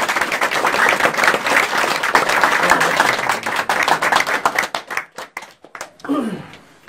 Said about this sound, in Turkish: Hepinizden kocaman bir alkış rica ediyorum